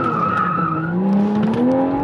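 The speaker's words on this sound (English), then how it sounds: "I have to be careful that I'm gonna put too much throttle in and the response is gonna be me spinning" Rear tires of a tuned 500 hp 2021 Toyota Supra spinning under power, a sustained rising squeal layered over a climbing engine note, loud and continuous with no voices.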